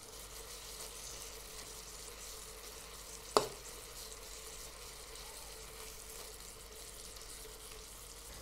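Pork fillet browns in a frying pan as sprigs of fresh rosemary are added, a faint, even sizzle with one sharp tap partway through.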